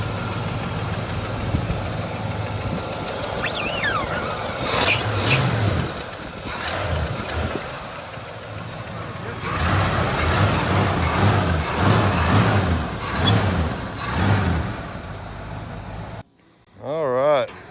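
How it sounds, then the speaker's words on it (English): A 1968 Pontiac GTO or similar muscle car engine rumbles at idle, then swells with several throttle blips across the middle, loud and close, with people talking over it. "Go hit the gas on it."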